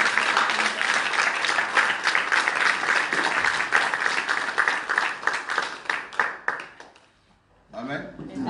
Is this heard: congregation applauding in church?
yes